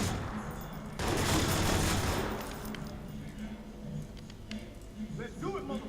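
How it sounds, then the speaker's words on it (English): Automatic gunfire from the U-100 full-auto light machine gun in Watch_Dogs: a loud sustained burst, then scattered shots and distant fire, with someone talking underneath. "The U-100. Full auto light machine gun."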